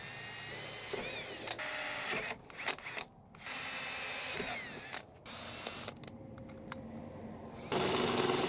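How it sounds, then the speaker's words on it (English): Power drill boring holes in a car door's steel panel for rivnut installation, repeated high whining bursts with starts and stops, brief gaps of silence between drilling runs. "we will go ahead and install the Rivnuts after we get the holes drilled."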